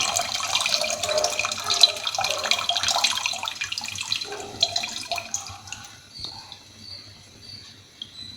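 Water mixed with tamarind pours and splashes steadily into a container for several seconds, then thins to trickles and drips; close by, with no speech.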